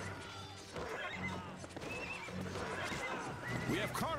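Horses neigh and whinny amid hoofbeat clip-clop during a battle in the strategy video game Cossacks 2, the calls rising clearly near the end over a steady busy game-audio bed.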